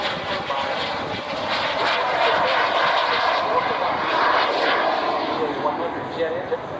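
A Fox jet glider at an air show passes overhead with a steady, broad engine roar that swells and fades slightly over several seconds, with a voice announcing over it.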